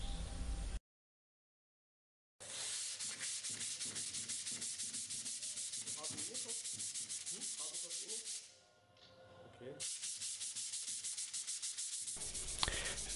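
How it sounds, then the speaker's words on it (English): Sandpaper is rubbed back and forth on a pipe to prepare it. The rhythmic rasping strokes are close and steady, with a short silent gap near the start and a quieter stretch in the middle. "To prepare the pipe, we use some sandpaper and a cleaner."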